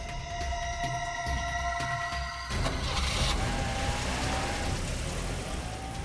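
A car pulls away from outside a hotel, its engine rising briefly and fading under a steady background hum and tonal whine, fairly quiet and with no voices.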